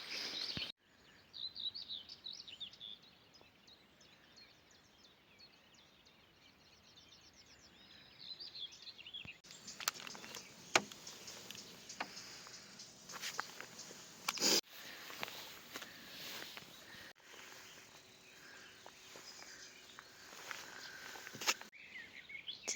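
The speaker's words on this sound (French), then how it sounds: "T'entends tous ces oiseaux." Morning birdsong outside a parked van, faint and distant chirps and calls scattered through a quiet ambient background, with occasional close shuffling and handling noises in the latter half.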